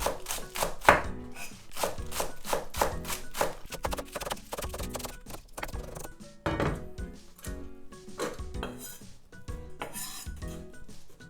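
A knife chops vegetables on a cutting board while kimchi is prepared, cutting in rapid, steady close-up strokes with crisp thuds that slow into looser, scattered chops.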